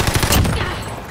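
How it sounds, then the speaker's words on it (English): An Owen submachine gun firing in Call of Duty Modern Warfare, a quick rattling burst of rapid shots close up, fading into a brief tail. "I got my Owen gun"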